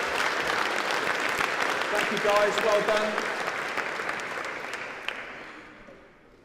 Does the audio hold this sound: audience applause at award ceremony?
yes